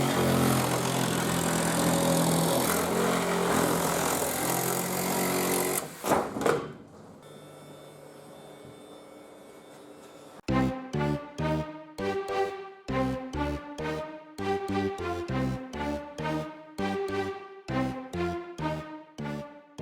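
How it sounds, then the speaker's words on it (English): A Sawzall reciprocating saw cuts into a truck cab, loud and close. A long stretch of dense grinding noise stops, a quieter spell follows, then the saw returns in rapid pulsing bursts. "So let's get to the sawzall, get it chopped out."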